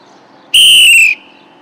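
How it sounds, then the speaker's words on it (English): A single long traffic-control whistle blast to signal vehicles to stop, loud and close, holding steady for about half a second before cutting off, with no talk around it. "A stop is a one long whistle."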